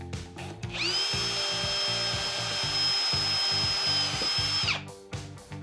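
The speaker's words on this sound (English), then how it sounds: "you could use the Phillips bit on your drill gun" A power drill with a Phillips bit driving drywall anchors whirs steadily for about four seconds at a high pitch, up close, with a low rhythmic rumble underneath, then spins down.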